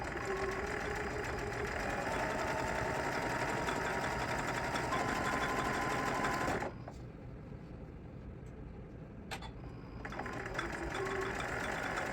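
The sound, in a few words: sewing machine stitching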